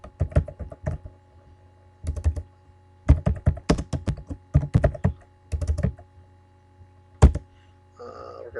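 Typing on a computer keyboard, with bursts of quick, close key clicks separated by short pauses and a single firm keystroke near the end, no voices.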